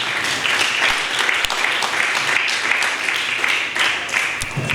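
A church congregation claps hands together during a Sunday sermon service, a steady, dense wash of applause filling the room continuously from start to finish.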